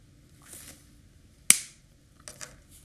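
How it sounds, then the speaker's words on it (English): Flush cutters give one sharp, close snip as they trim the tail of a resin seahorse charm, followed moments later by a couple of faint clicks against quiet room noise. "you can trim off a little bit of the tail just with a pair of flush cutters"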